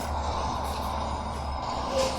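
A truck rumbles close by with a low, steady engine drone, and a short high tone sounds near the end; no one speaks.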